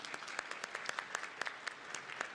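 Audience applause at a leadership talk: a steady patter of individual hand claps, quiet and somewhat distant, with no voices over it.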